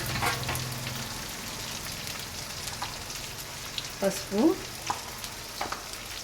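Drumstick (munakaya) pieces frying in a pan for a tomato egg curry, a steady soft sizzle with stirring scrapes and a few louder clatters near the end, moderately close and without talk.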